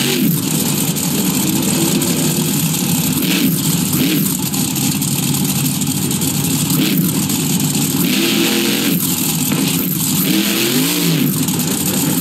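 A monster truck engine in the video game BeamNG Drive revs hard and steadily with rising and falling pulls, loud and close, while crashing through a block wall, with no talk.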